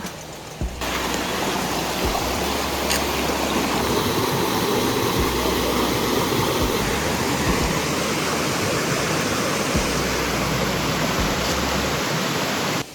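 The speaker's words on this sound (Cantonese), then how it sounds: "沿途會聽住啲流水聲，好清幽啊" Water rushes continuously along a wooded mountain path toward Minoo waterfall near Osaka, a dense, steady hiss-and-roar of flowing stream heard close and loud, with no speech.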